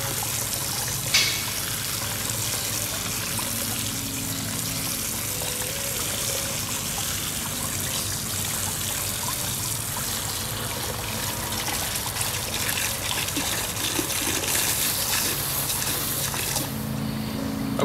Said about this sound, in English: now we've got our low pressure water going through here